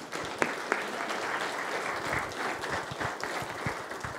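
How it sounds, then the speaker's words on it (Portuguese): Church congregation applauding during a Portuguese-language Bible lesson, a soft, steady wash of clapping heard from some distance, with a couple of sharper claps near the start. "Vamos aplaudir o Senhor"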